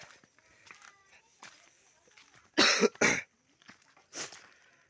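A person coughs, two sharp coughs close together followed by a softer one, near the microphone, with quiet rustling and faint background sounds between them.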